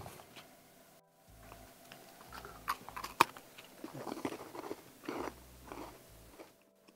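Close, quiet crunching and biting of crisp freeze-dried astronaut ice cream in several bursts, with brief pauses between bites.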